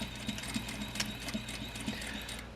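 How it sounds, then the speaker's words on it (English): A sewing machine stitches over an earlier row of stitching on a single welt pocket, a steady close mechanical whir with a rhythmic needle pulse and light clicks throughout. "I'm just going to stitch right on top of my other row of stitching"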